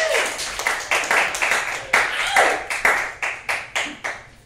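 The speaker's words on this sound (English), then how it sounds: "Give it up for Larry George." Comedy club audience clapping and cheering for a comedian as he takes the stage, loud continuous applause with rhythmic hand claps building and pulsing close by.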